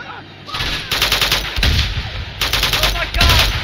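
Gunfire in Uncharted 2: Among Thieves, loud rapid bursts of automatic weapon shots that come in several close waves with brief gaps, with a voice heard faintly between them.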